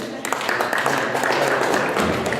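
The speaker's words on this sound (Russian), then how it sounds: "Аплодисменты." Audience applause at a poetry festival, a dense, moderately loud patter of clapping from a crowd that carries on evenly before tapering slightly.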